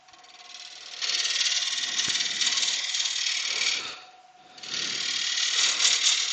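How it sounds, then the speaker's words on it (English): Half-inch bowl gouge cutting into a spinning wood bowl on a lathe, a bright scraping, whirring cut that runs steadily, pauses briefly, then resumes, fairly close with no talking. "I'm going to use the 1/2 inch bowl gouge and begin to feather it in"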